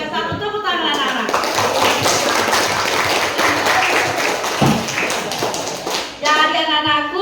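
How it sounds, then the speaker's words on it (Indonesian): A room of schoolchildren claps during an outreach session at a junior high school, with steady, loud, close applause and busy rustling, and a voice speaking at the start and end. "Tepuk tangan anak-anak."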